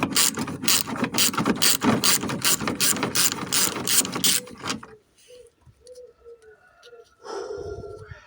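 A hand ratchet removes mud-caked rear bumper bolts on an Alfa Romeo 33 1.7 16V, giving a fast run of loud, close clicking strokes before stopping, followed by quieter scattered clicks and faint bird coos.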